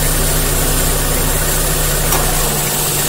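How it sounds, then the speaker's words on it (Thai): A car engine idles loudly and steadily nearby with the A/C compressor wired directly to battery power, a constant droning hum with a faint shift in load near the end. "เดี๋ยวฟังเสียงเครื่องยนต์นะครับว่ามันจะดึงหรือเปล่าคอมมันจะดึงบ้างครับ"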